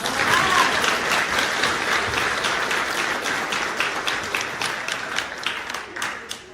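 A banquet crowd at a chamber of commerce awards dinner applauds nominees and winners with a long, dense wash of clapping that stays full, then thins slightly toward the end as individual claps stand out.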